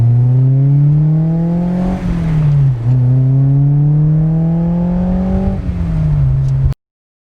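A Honda car engine revs and climbs in pitch, drops at a shift, then climbs again, loud and near before cutting off abruptly.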